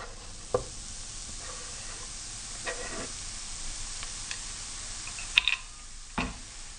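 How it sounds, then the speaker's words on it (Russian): Carrots sizzle steadily in oil in a hot pan, a soft continuous crackle with occasional light clicks and scrapes from stirring. "И жарим ее до мягкости."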